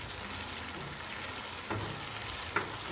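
Tomato and green chili go into frying chana and mash dal, raising a continuous close sizzle with a bump in intensity as the pieces land and a sharp clink of utensil on pan.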